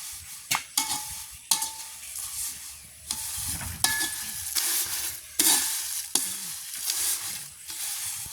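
Chillies fry in coconut oil in a pan with a soft sizzle, while a utensil stirs and scrapes them in repeated sharp, close strokes. No one speaks.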